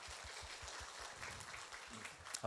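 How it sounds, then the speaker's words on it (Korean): A church congregation clapping during a Sunday service in Daejeon, a dense wash of many hands with a soft rhythmic pulse, moderately distant and steady for a couple of seconds. "하나님께 영광의 박수 올려드립니다."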